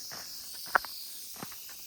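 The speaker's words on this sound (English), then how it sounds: "I thought I heard a rattler for a second, just crickets." Crickets chirp as a steady, thin high-pitched drone in open country of the Great Divide Basin along the Continental Divide Trail, with a few soft footsteps crunching faintly nearby.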